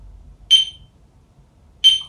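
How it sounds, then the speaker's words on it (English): Two short, loud electronic beeps from a sync device sound about a second and a half apart over near silence. "just hold it up for a couple of beeps."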